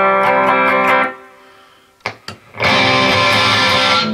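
Electric guitar with heavy distortion playing a section of a song: a sustained chord rings for about a second, a few brief plucked notes follow in a near-silent gap, then loud dense strumming resumes.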